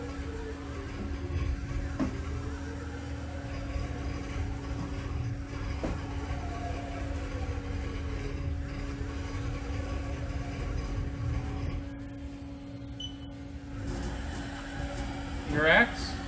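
A 2008 Haas VF-1 20 HP CNC vertical machining center runs its Z-axis with a steady mechanical hum and sustained servo whine throughout, with a brief clatter near the end.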